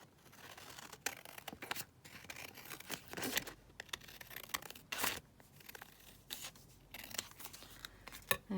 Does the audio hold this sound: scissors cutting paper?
yes